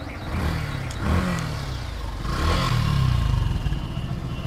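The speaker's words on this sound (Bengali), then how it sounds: "আচ্ছা, একটু স্টার্ট করে দেখাই গাড়িটা, তুমি ইঞ্জিন আওয়াজটা শোনাও" A Yamaha FZ version 3 BS6 motorcycle in good condition in a showroom, its engine starting and settling into a steady, smooth idle with a couple of light revs, close by with no talk.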